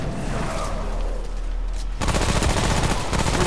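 Gunfire rings out in Remnant: From the Ashes, a muffled stretch of noise giving way to a loud, rapid string of shots that continues to the end.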